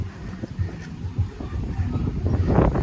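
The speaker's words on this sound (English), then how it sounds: "Windy day here on the Subic Bay. Windy and wavy." Gusty wind on a beach at Subic Bay buffets the microphone with low rumbling blasts that rise and fall, growing stronger toward the end.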